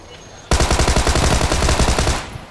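Rapid automatic gunfire from a shooter video game, a loud sustained burst of closely spaced shots lasting nearly two seconds before cutting off.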